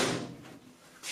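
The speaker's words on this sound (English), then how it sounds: "close the door" A washing machine door swings and shuts with a brief muffled clunk, followed a moment later by a soft latch click, heard fairly close in a quiet room.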